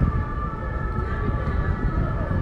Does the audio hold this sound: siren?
yes